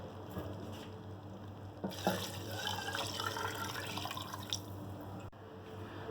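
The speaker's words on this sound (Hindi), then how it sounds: "पानी डाल देंगे।" Water splashes and trickles steadily into a pot of rice for chana pulao, a continuous liquid pouring sound at close range with a brief sharper splash partway through.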